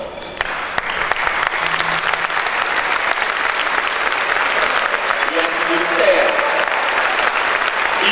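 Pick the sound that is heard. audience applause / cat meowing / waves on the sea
audience applause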